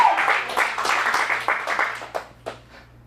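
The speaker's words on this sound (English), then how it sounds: "Let's give him an applause." An audience at an adult dramatic acting showcase claps for a performer, a brief burst of scattered applause that thins out into a few last isolated claps.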